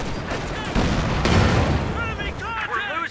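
Nebelwerfer rocket artillery in the Company of Heroes 2 strategy game, heavy booming launches and blasts that rise abruptly and rumble on, followed by whistling, wavering rocket sounds over a busy battle.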